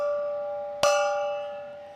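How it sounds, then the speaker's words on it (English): A single struck home run gong rings out at a Dodgers baseball stadium during a game against the Yankees, a sharp metallic strike followed by a long, sustained, bright ringing tone that slowly decays. "it's the home run gong"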